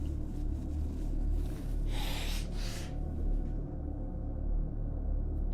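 A short, breathy nose blow of about a second, set over a steady low rumble of background noise, followed by quiet.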